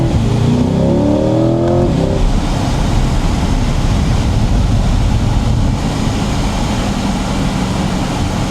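A Chevrolet C8 Corvette, top down on a scenic New Jersey backroad, pulls away hard in first gear. Its engine note climbs as it accelerates, then settles into a loud, steady roar with road and wind rumble.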